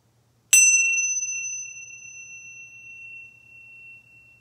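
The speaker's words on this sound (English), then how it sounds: "So go ahead and ring the bell here" A meditation bell is rung once, a sharp close strike that rings out in a pure sustained tone and slowly fades over several seconds, with no voices.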